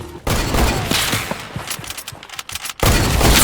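Sniper rifle gunshots in a first-person shooter match, a loud dense burst of sharp cracks and booms up close, dipping briefly quieter in the middle before another heavy blast returns at the end.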